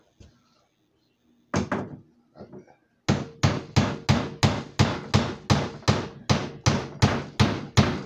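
Steady hammering: a dozen loud, evenly spaced strikes close by, preceded by a few scattered knocks and bumps.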